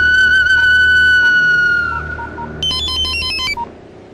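A phone ringtone in a Telugu movie scene sounds loud and close: a sustained whistle-like tone, then a rapid electronic melody of bright beeps before it cuts off.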